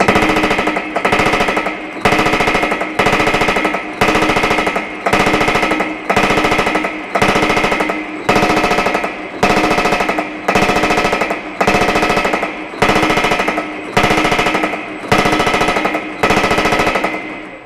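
A Baileigh PH28 power hammer shaping sheet metal: loud, rapid machine-gun-like hammering in bursts of about a second, separated by short pauses, repeating in a steady rhythm with no speech.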